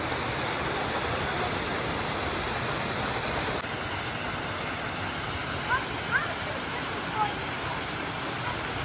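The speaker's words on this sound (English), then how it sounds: "That's the big waterfall." Steady broadband roar of the big waterfall at Fairy Glen Falls in Scotland, constant and enveloping throughout, with a few faint brief chirps rising above the rushing water.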